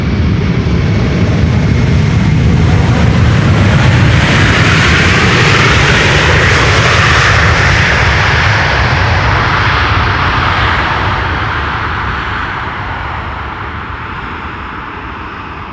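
Airliner landing on Schiphol's Polderbaan runway with thrust reversers deployed, a loud, sustained broadband jet roar close by that swells and then slowly fades over about sixteen seconds, with no talking.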